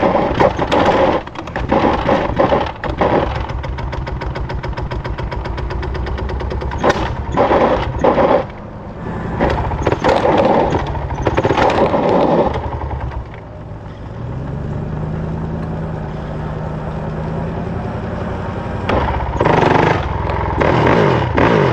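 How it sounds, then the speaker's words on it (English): A 2006 Honda TRX450R quad engine is pull-started, sputtering and popping in loud bursts that catch into a rough, revving run, stall, then roar again close by. "We're a bunch of four-wheeler mechanics and we're pull starting it."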